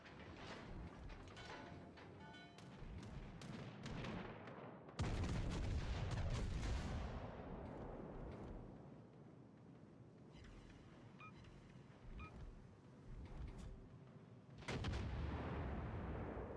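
Deep booming naval gunfire from warships in a game, with a heavy salvo near the start, another big blast later, and rumbling echoes and mechanical clatter between the shots.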